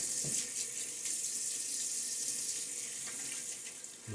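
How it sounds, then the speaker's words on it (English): Water runs steadily from a tap into a sink during a wet shave with a Timeless 68 OC razor, a continuous hiss with a few small splashes near the end. "A little water splash."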